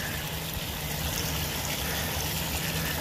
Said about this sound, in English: I was about to head back down the trail and I heard some running water.